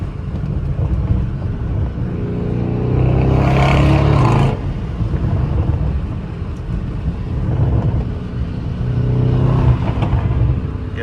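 A Stage 2+ Lamborghini Urus with a twin turbo V8 drives along, its engine a continuous loud drone heard from inside the cabin, swelling in a couple of throttle surges.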